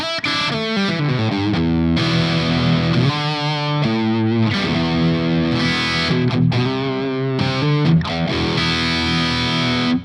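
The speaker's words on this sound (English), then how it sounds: "We start off with H and K fizzy lead." An electric guitar plays a sustained, heavily distorted lead through a Hughes and Kettner fizzy lead amp model with a touch of spring reverb, notes and chords ringing continuously and loud, with no voices.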